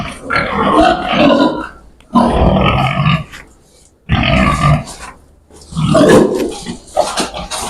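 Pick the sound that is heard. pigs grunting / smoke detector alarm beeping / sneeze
pigs grunting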